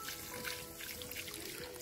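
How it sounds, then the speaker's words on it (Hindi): Water poured into a covered pot of village-style chicken dum biryani, a continuous close trickling and splashing pour running steadily throughout. "हम इसमें पानी डालेंगे"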